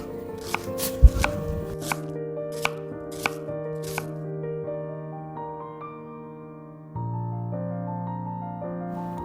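Beans and a small piece of carrot are chopped finely with a knife, about six crisp, distinct cuts in quick succession at the start, over soft background music that continues after the chopping stops.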